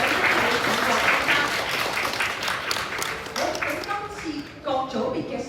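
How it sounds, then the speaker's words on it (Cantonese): An award ceremony crowd breaks into loud sustained applause that slowly thins toward the end, with a voice speaking over the later clapping. "掌聲俾郭先生"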